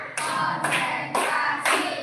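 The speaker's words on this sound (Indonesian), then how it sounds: "Biar lebih semangat lagi, yuk kita tepuk" Rhythmic group clapping in a 5th-grade classroom clap chant, four sharp bursts of many hands striking together at an even pace, close and loud with no words spoken.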